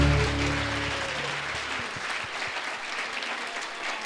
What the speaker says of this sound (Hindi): परमेश्वर के इस अभिषेक के लिए एक बार ताली बजा दीजिए।